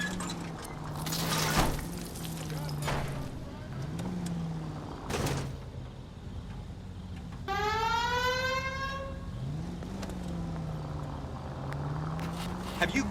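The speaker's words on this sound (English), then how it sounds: "Have you got something against the siren?" A siren in L.A. Noire wails in long rising and falling sweeps across the whole stretch, with a louder, harmonically rich whoop in the middle, over game engine rumble and a few sharp crashes.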